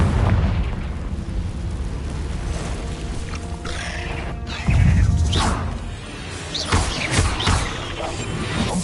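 A Confringo spell explosion in Hogwarts Legacy during a cave duel, a booming blast that rolls out with crashing debris amid other spell effects and rumbling.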